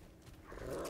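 Horse enemy in the video game Remnant 2, making a brief animal sound that grows louder toward the end, set against quiet game ambience.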